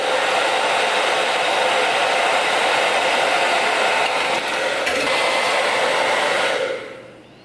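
A hair dryer on high heat blows steadily and loudly over a wet phone circuit board, a continuous close-up rush of air that cuts off and fades near the end.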